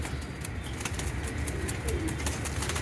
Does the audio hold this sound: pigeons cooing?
yes